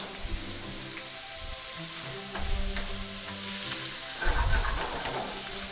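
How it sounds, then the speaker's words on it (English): Shrimp sautéing in oil and butter in a pan, with a steady close sizzle and hiss broken by brief stirring scrapes and clatters. "I'm sauteing the shrimp in the oil and butter"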